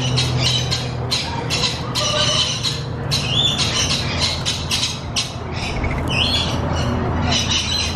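Ostriches at an ostrich ranch in Picacho, Arizona squawk and chirp in a dense, loud, continuous chorus over steady outdoor noise, with no voices.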